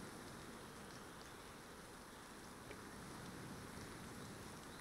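Heavy rain falls by the sea in a steady, dense hiss that stays even and unbroken throughout, with no voices.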